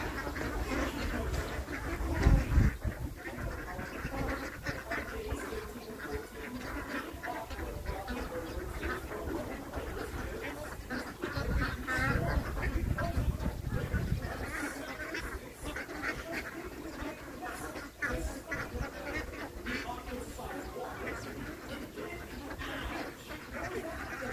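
Ducks, including newly hatched ones, quack continuously in a busy, overlapping chorus, close and fairly loud, with bursts of heavier rustling and a voice speaking now and then underneath.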